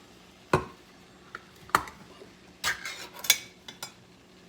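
Canned diced tomatoes poured into a pot on the stove, heard as a handful of sharp metallic clanks and taps of the can against the pot at scattered moments over a quiet, faintly sizzling background.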